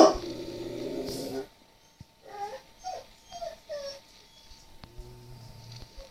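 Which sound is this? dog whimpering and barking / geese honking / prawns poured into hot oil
dog whimpering and barking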